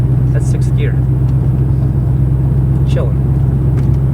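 Low, steady drone of a twin-turbo Corvette C6 Z06 cruising in sixth gear, heard from inside the cabin with windows up and air conditioning on, while a voice speaks briefly over the hum.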